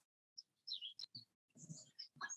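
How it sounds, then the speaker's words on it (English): Small birds chirp in a quiet outdoor setting, a few short high tweets and trills scattered across a brief stretch, faint and distant, with no other sound. "I can hear the birds chirping"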